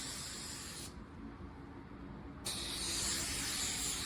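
Bulldog adhesion promoter misted from an aerosol can onto a car bumper, edges first: a steady close hiss that briefly thins, then returns stronger for the rest of the clip.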